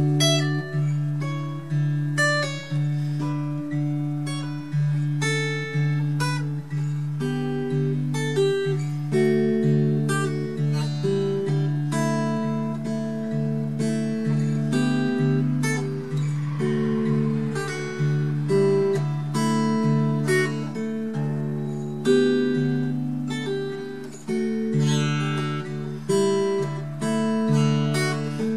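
Guitar slowly playing the intro of a song: clear, evenly paced plucked notes and chords ringing close and alone, with no talking.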